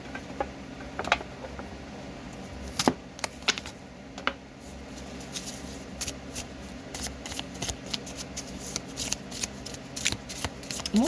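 Oracle cards are shuffled close by in a quiet room, with soft, quick flicks and riffling clicks that come in uneven bursts, and no voices.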